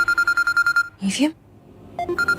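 A telephone rings in repeated bursts of electronic tones at an even pulse, broken midway by a short spoken phrase, then the ringing resumes.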